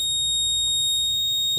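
Alarm from a GPS/GSM safety bracelet triggered in SOS mode, sounding as a steady high electronic tone held for the whole short stretch with a low hum beneath and no talking.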